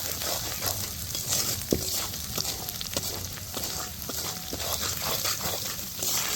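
Turmeric powder being stirred into a spice mix in a pan for Bengali street-style moglai paratha, with a steady low sizzle and soft, irregular spoon scrapes and taps throughout.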